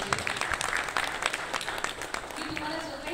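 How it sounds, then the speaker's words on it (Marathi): An audience applauds at a Marathi film trailer launch event, with scattered, moderately loud clapping and a voice speaking over it. "एकदा जोरदार टाळ्या व्हायला पाहिजे."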